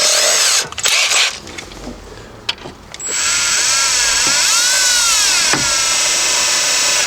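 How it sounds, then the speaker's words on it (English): Cordless power drill driving screws while a stock car radio is refitted in a Buick Century, a loud steady whine with brief pauses, starting, stopping and then running continuously through the second half. "I have power tools, and I love them."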